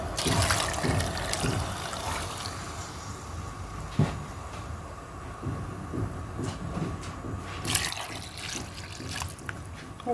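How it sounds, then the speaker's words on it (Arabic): Water poured into a cooking pot while making a Moroccan chicken dish, a steady gushing splash running throughout with a few knocks and clatters, close and fairly loud. "ثم نضيف الماء"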